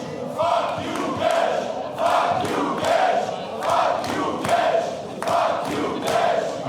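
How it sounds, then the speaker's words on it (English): A sold-out wrestling crowd in a Hamburg arena chants and cheers in rhythmic, swelling waves, a dense roar filling the hall without any clear single voice. "When you listen to this crowd here in Hamburg, sold out."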